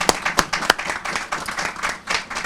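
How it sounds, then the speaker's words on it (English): Scattered hand clapping from a small audience at an outdoor skate park groundbreaking ceremony, a few sharp individual claps leading into a brief, uneven round of applause. "Let's give her a round of applause."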